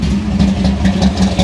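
A Monte Carlo engine idling at about 1,000 rpm with the distributor locked out at 38 degrees gives a steady, loud, close low throb with a slightly lumpy rhythm and no talk.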